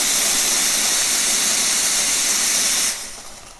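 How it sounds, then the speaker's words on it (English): A Nuova Simonelli Musica espresso machine's steam wand steams milk with a loud, roaring hiss that stays even for about three seconds, then cuts off and leaves a fading residual rush. "It really packs a punch and will steam your milk in seconds."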